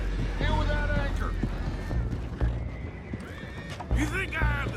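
Horses in the Red Dead Redemption 2 video game whinny repeatedly, a few loud neighs over hoof clip-clops and outdoor commotion, with voices mixed in.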